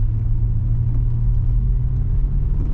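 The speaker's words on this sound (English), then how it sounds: "We've got the Cadillac out for a test drive after sorting quite a few of the faults, and it is much improved." A Cadillac BLS 2.8 V6 turbo on a test drive after fault repairs gives a steady, loud, low engine and road rumble from inside the car, with no talking.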